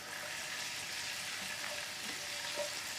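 Finely chopped garlic and ginger frying in half a cup of desi ghee in a pan, giving a steady close hiss and crackle with a few faint pops, unbroken for the whole stretch, with no talking.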